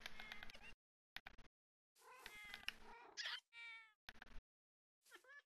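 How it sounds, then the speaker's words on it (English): Minecraft cats meow several times in short, chopped-up bursts with gaps of silence between them, fairly clear and alone without talk. "Yo, there's cats too."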